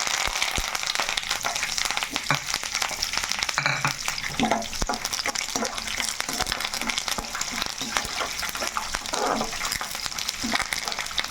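Curry leaves crackle and sizzle in hot oil for a gongura chutney, a steady close frying hiss dotted with sharp pops and a stirring scrape or two, with no voice over it.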